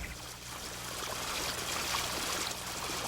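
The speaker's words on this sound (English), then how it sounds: "The water then flows down the field between the rows." Irrigation water from a tailwater recovery system runs down furrows between crop rows in an 80-acre field, a steady, continuous trickling and gurgling flow heard close up with no one talking.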